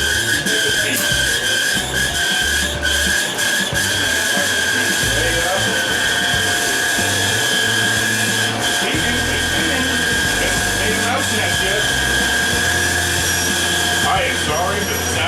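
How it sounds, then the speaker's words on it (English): A vintage Airco MIG welder's cooling fan whirs loudly and steadily throughout, with a high whine and rattly mechanical chatter, in a workshop beside a large Hobart machine. "I am sorry for the sound of that fan."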